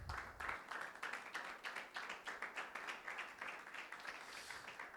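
A church congregation claps for Jesus Christ during a Sunday meeting, a dense and steady run of many hands applauding together at a fairly even pace for the full stretch.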